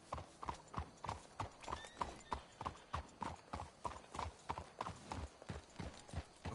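Steady clip-clop of horse hooves in a brisk rhythm in the video game Red Dead Redemption 2, close and clear, with a brief whinny partway through.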